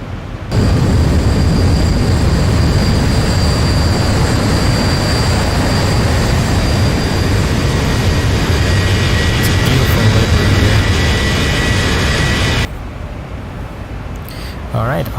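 Steady, loud jet engine drone of a Boeing 737-800 cruising at 40,000 feet in the X-Plane 11 simulator, a constant broadband roar that cuts off abruptly near the end; a voice talks over it.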